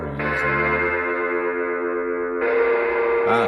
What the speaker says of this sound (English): a spring reverb. It's going to give it that vintagey, kind of crashy, washed out kind of sound